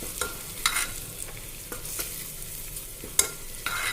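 Curry leaves, red chili powder and spices are stirred in a pan for masoor amti, soft scraping and faint sizzling punctuated by a few sharp spoon clicks against the pan.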